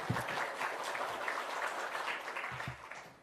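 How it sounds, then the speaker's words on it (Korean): A congregation at a Korean church evening service claps as the pastor comes forward, a faint, steady patter of applause lasting several seconds. "박수까지 칠 줄이야 몰랐습니다."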